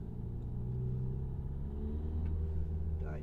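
A 2016 Renault Kadjar 1.5 dCi diesel with a flat-performance fault idles and hums with a low engine rumble, the revs rising briefly without any strong surge, heard close and fairly faint.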